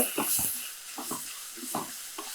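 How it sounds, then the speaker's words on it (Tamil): A spoon stirring turmeric into chicken vermicelli soup in a pot, a few soft scraping and sloshing strokes over a faint hiss, close and quiet. "நல்லா அப்படியே மிக்ஸ் பண்ணி விட்டுருங்க"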